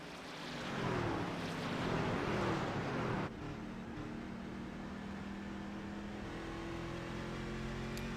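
A race truck in the Old Glory Truck Series roars loudly past the start-finish line, its engine noise swelling for about three seconds before dropping to a steady, more distant rumble.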